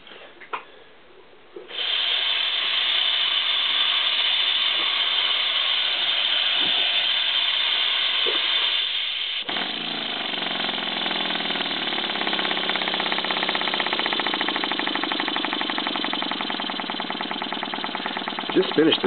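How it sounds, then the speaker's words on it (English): A Stuart V10 model steam engine with its feed pump runs on compressed air, giving a steady, loud hissing chuff that shifts to a faster, tighter rhythmic beat partway through, close to the listener. "I'll let you see how that pump drive works. Just run it on air."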